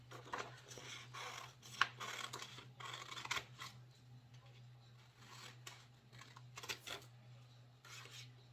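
Scissors snip around a traced heart shape for a Valentine's Day DIY sign, giving faint, irregular clicks and paper rustles over a steady low hum, with no talking.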